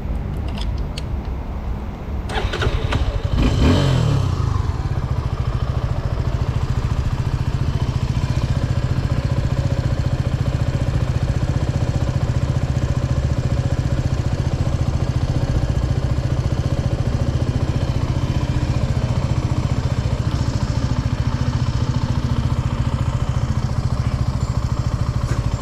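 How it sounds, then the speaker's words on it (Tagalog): A Suzuki Gixxer 250 motorcycle engine cranks and catches after a crash, then settles into a steady, loud idle that runs on without pause, close up. "napaandar ko yung motor"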